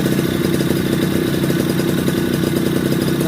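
A Suzuki Tornado motorcycle engine runs steadily and loudly up close, a busy buzzing two-stroke drone with rattly clatter and no pauses, while the throttle is being opened during oil pump adjustment.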